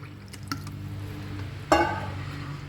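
Milk poured into a jar and stirred to make homemade chocolate mix: a soft liquid squish and drip, with one sharper splash-and-clatter near the end over a low steady kitchen hum.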